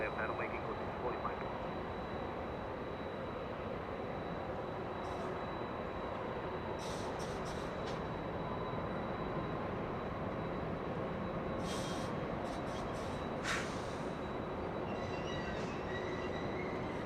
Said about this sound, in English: Aeromexico getting a move on, flying to Mexico City, a MAX 8 737.